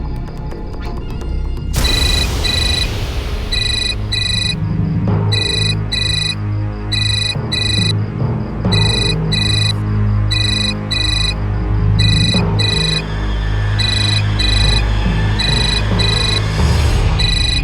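A phone ringtone plays loudly in repeating electronic bursts, with a steady melodic pattern over a low background hum.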